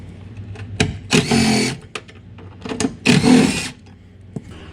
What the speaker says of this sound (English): Now what I'm going to use on the top bracket to remove it is a 7/16 socket.